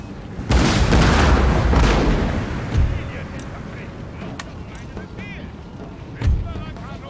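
Musket and artillery gunfire in a battle in Empire: Total War: a heavy rolling volley opens loudly, then fades into distant booms, with two more sharp blasts spaced several seconds apart.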